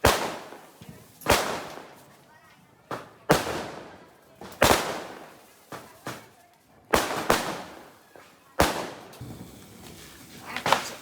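Diwali firecrackers burst one after another, six or seven sharp loud cracks at irregular intervals. Each bang rings out briefly and decays over a background of faint crackle and distant pops.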